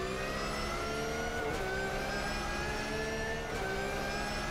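Car engine in the sim racing game Automobilista 2 with GT cars, droning steadily with layered harmonic whine, two brief dips like gear shifts, loud and continuous with no talk.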